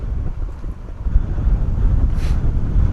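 Strong, gusty wind at an airport buffets the microphone in a loud, continuous low rumble that surges and eases throughout.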